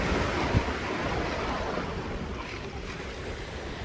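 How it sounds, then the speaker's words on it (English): Ocean waves crash on a shore, with loud, continuous surf roar and wind buffeting the microphone at close range, and no talk. "Probably not gonna hear me so good because of the crashing of the waves."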